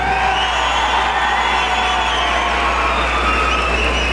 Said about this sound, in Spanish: Si usted quiere que se vaya como tercer finalista, regálele fuerte el aplauso.